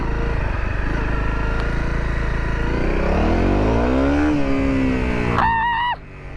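A 2018 Honda CRF250L dual-sport motorcycle engine winds up hard, pitch climbing steadily through the rev range as it accelerates, loud and close, with a brief rising whine near the end.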